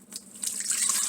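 Warm water pours from a tap onto active dry yeast and sugar in a container, a close, steady splashing stream that starts quietly and quickly grows fuller.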